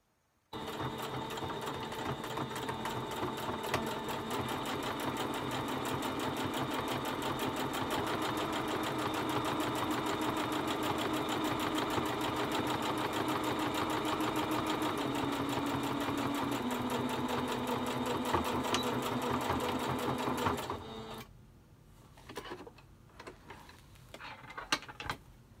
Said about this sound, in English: the front, we just top stitch along the top and bottom edge for a quarter inch seam